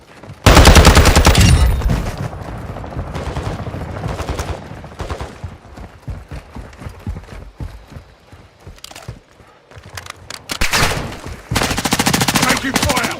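Automatic and single gunfire in Call of Duty Warzone 2 crackles near and loud in dense bursts, with a heavy opening volley, scattered shots and thuds through the middle, and renewed sustained firing toward the end.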